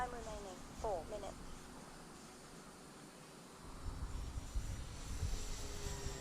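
An E-flite Timber Turbo RC model airplane passes overhead with a faint, steady electric whine and hiss against a quiet summer outdoor background, swelling slightly toward the end.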